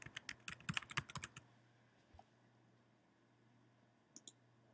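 Fast bursts of typing on a computer keyboard, entering a server name into an FTP client, a cluster of quick clicks followed by a quiet pause and one brief final tap, close and alone over a low steady hum.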